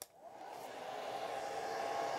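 Hair dryer blowing steadily on a wet watercolor painting, a continuous whooshing motor hum that starts abruptly and swells slightly, close and alone without speech.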